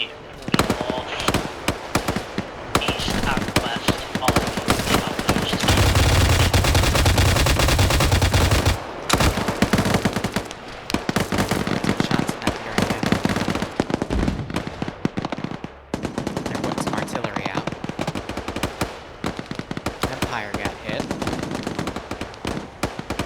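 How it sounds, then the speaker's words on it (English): Continuous heavy gunfire and mortar explosions rumble through a military war-training video game battle, dense bursts of automatic fire with deep booms, loud and sustained throughout, with occasional voices underneath. "Mortars are landing in front of the infantry coming in."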